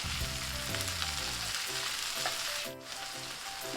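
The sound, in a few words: green and red capsicum and tomato frying in pan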